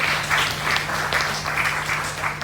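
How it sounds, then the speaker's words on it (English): Live podcast audience at Dublin VegFest bursts into applause, a loud, close, dense wash of clapping with a few cheers, sustained over a steady low hum. "That deserves a round of applause."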